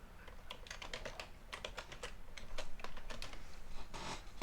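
Fingers tap out a password on a computer keyboard in quick, uneven bursts of soft clicks, close by and fairly quiet, with a short pause before a final flurry.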